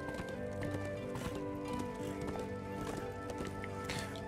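Hooves clip-clop in a steady, quick rhythm, a galloping horse in the video game Darksiders II Deathinitive Edition, heard at moderate volume over a constant musical background.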